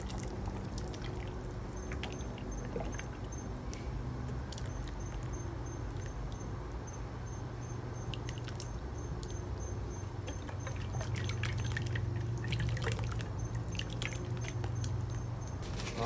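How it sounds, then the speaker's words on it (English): Coconut milk poured into a pot of rich pumpkin-base soup, a steady continuous pour with soft trickling and light patter running the full length, close and fairly even in level with a low rumble beneath and no talking. "I'm going with some coconut milk now."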